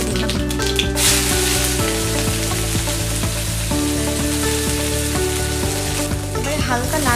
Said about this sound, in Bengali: এবার তারপরে পেঁয়াজ কুচিগুলো দিয়ে দিলাম